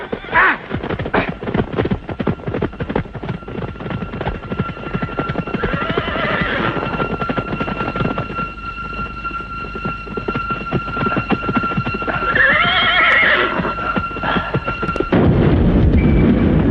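Horses neigh and whinny in a dramatic Indonesian film scene, with dense rapid hoofbeats clattering throughout, two loud drawn-out neighs rising over the galloping, and a heavy rumbling burst near the end.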